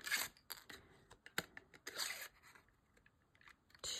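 A 3/4 inch circle punch pressing through 110 pound cardstock makes several crisp, sharp clicks and crunches at uneven intervals, close and fairly quiet, with no speech.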